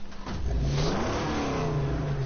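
Car engine in the Mad Max video game revving up loudly, a short rising roar that sweeps upward in pitch and holds, alone without talk.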